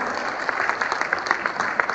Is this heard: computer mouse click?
no